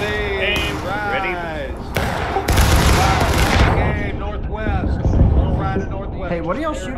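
Rifle fire at a Pickett's Charge reenactment: a few sharp isolated cracks, then a dense ragged volley in the middle, heard amid people talking and calling out nearby.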